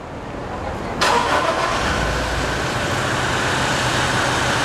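A Toyota Hilux with 280,000 km starts up with a sudden crank that catches, then settles into a steady idle amid background noise.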